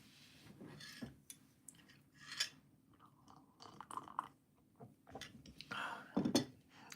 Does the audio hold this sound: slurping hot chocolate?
yes